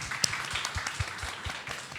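Scattered applause from an audience at a business marketing seminar, a light patter of individual claps over a couple of seconds, moderately close with room noise.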